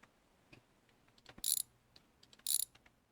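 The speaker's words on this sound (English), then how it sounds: "we've got a couple of bolts to undo on this." Bolts being undone on a car's transmission support, heard as two short, loud bursts of ratchet clicking separated by about a second, with scattered faint metallic taps and clunks in a quiet garage.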